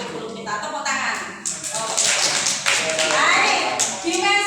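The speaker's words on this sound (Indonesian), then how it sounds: "Tepuk tangan." Clapping from an audience of school facilitators at a training session in a high school hall, a few seconds of mixed hand claps with voices talking over and around it.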